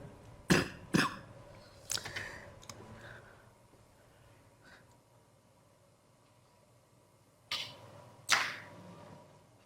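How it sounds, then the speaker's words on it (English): A few sharp coughs in quick pairs, close by, separated by quiet stretches with faint clicks, then another burst of coughing near the end. "So I have this cough as I speak, and I develop this cough"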